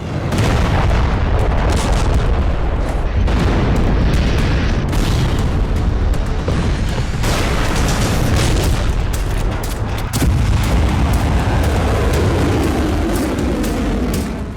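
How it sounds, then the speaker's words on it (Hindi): Deep, rumbling explosions boom continuously, loud and close, with blasts overlapping into a sustained roar of destruction. "जमीन फाड़ देने वाले विस्फोट,"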